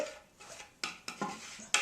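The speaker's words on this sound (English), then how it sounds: "Let me clear this stuff away" Bowls and utensils are gathered up and set down in a kitchen after mixing cookie dough, with several sharp clinks and clatters spaced irregularly over a couple of seconds, close and fairly quiet.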